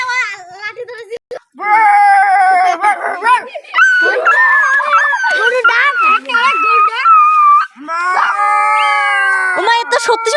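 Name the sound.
child imitating a dog barking and howling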